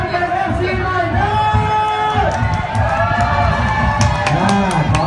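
A football crowd at a Khon Kaen FC versus Yasothon FC match roars and cheers continuously and loudly, with whoops and shouts and voices talking over it.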